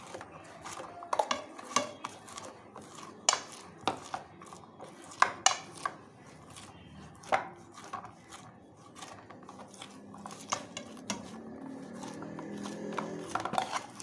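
Modak dough being mixed and kneaded in a ghee-greased pan, with irregular sharp clinks and scrapes of a utensil against metal over a low background hum.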